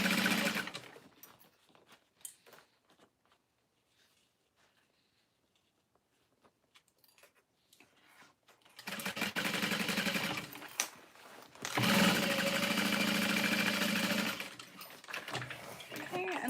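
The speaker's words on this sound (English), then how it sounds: "So now I'm gonna sew in my lining, starting past where I stopped the first time and then all the way around." A sewing machine runs in two sustained loud bursts, whirring steadily while stitching in a garment lining, after a quieter stretch with faint handling sounds and talk.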